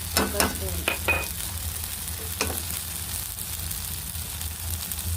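Coriander seeds fry in a pan, giving a faint steady sizzle with a few sharp stirring clicks and scrapes early on, close but quiet throughout.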